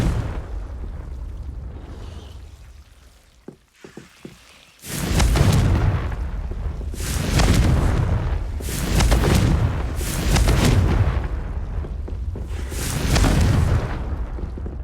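A Confringo fire spell from the Hogwarts Legacy video game goes off in a run of heavy booming blasts, several bursts rolling one after another over continuous rumbling game audio, after a few small clicks.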